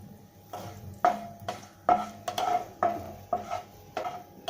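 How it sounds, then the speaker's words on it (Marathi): Fennel seeds and cumin being roasted in oil in a pan for raw mango pickle, with a spoon scraping and stirring in a steady rhythm of roughly one stroke per second, close and clear. "आता याच तेलामध्ये आपल्याला बडीशेप आणि जिरा आहे ना ते भाजून घ्यायचं आहे"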